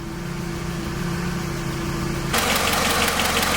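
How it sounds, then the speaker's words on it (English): Toyota Camry engine idling after a head gasket replacement, a steady close mechanical hum with a slight ticking knock, then a louder broadband rush of noise joins in near the end. "so she's been idling for about a good 15 minutes."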